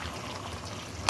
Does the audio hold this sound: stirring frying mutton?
yes